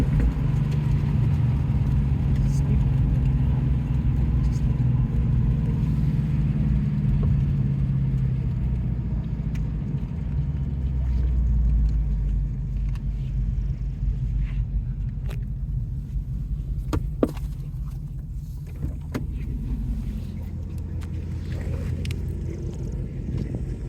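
Deep, loud engine rumble from a 2021 Roush Stage 3 Mustang with 750 hp as it accelerates from inside the car, swelling then easing to a steady drone.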